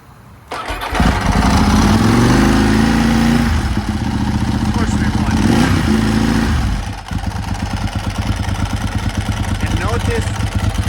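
A Ducati 996 SPS motorcycle engine with a full 50mm exhaust fires up loudly, rumbles at a strong, throbbing idle with a couple of blips, then settles into a rapid, lumpy idle close by.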